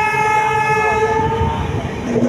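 The Manmad–Hingoli passenger train sounds its horn in a long, loud multi-tone blast over the steady rumble and rattle of moving carriages, heard from on board.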